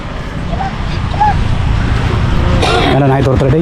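A dog barks and yips at an outdoor lakeside walking area with traffic nearby, the barks clustered toward the end over constant background noise.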